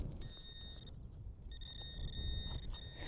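A metal detector held over a deep buried target in a UK field gives a thin, steady electronic tone with a brief gap, sounding faint against low outdoor wind rumble.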